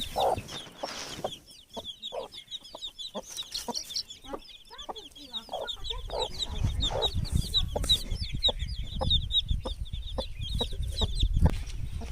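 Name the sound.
hen with chicks clucking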